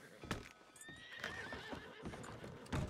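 A horse in the Red Dead roleplay game whinnies with rising tonal cries and snorts, hooves clip-clopping at a steady gait, close and fairly loud with no talking.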